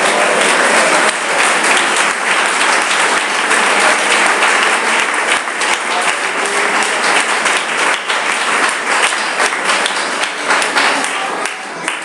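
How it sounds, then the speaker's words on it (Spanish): A church congregation gives loud, sustained applause, a dense wash of many hands clapping at once that holds steady for several seconds before easing slightly at the end. "Un aplauso para nuestro Dios."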